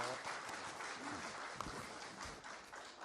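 Dense applause from an audience at a talk show in Yeosu, welcoming three guests onto the stage; steady broadband clapping throughout, fairly loud and close, with faint voices mixed in.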